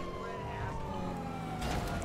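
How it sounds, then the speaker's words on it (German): A police car siren wails in GTA Online, a steady sliding electronic tone over engine and traffic noise, moderately loud and continuous. "Ein Polizeiauto."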